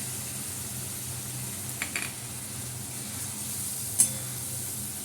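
Tomato puree with a little salt sautés in a pan. A soft, steady low sizzle holds close but faint, with a couple of light utensil taps and no voices.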